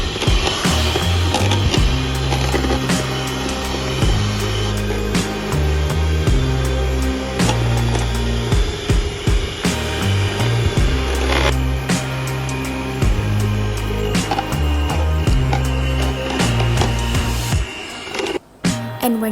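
An electric hand mixer with five speeds runs continuously and close up, a dense whirring drone with rattling, clicking texture and shifts in pitch and intensity, stopping briefly near the end.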